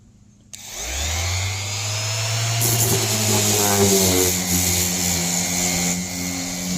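A HYCHIKA orbital sander spins up from silence into a loud, steady motor whine, then begins sanding, adding a rougher, fluctuating rasp as it works the surface nearby.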